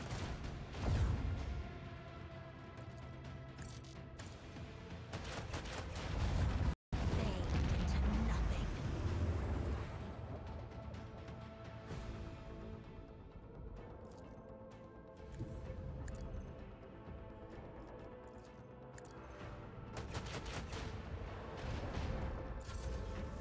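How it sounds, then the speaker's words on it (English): Plasma torpedoes explode in the Rogue Trader video game, a dense run of booming blasts and crashing impacts under layered game music, rising and falling over many seconds with a brief dropout midway. "No issue about the plasma torpedoes there. Yep, they've blown themselves up."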